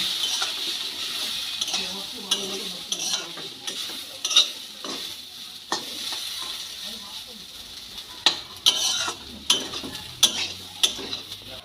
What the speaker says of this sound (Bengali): দিয়ে আবার সমানে খুন্তি দিয়ে নেড়ে দেবো